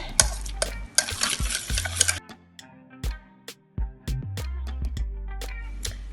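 A utensil works through dough mixed with eggs in a bowl, making irregular scraping, tapping and clinking strokes with brief squelchy bursts, close and intermittent, with no talking.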